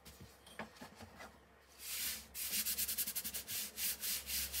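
Close, brisk rubbing strokes press green heat-transfer vinyl down onto a t-shirt, starting slowly with a few scrapes and then speeding into a rapid rhythmic series of dry swishes.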